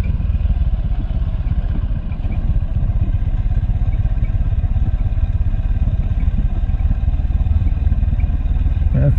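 A motorcycle rides down a winding forest trail, its engine a steady, loud, close rumble with rattling clatter throughout and no pauses.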